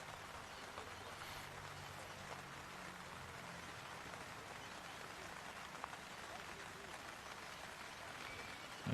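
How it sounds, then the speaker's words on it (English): Steady rain falls on an outdoor lawn bowls green, a dense even patter of drops holding at a constant level throughout. "A bit heavier, that rain."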